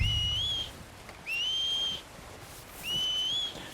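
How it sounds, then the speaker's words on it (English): In Red Dead Redemption 2, a character whistles for a horse three times at an even, unhurried pace; each call is a rising two-note whistle heard over a low, steady outdoor background. "Let's whistle for him."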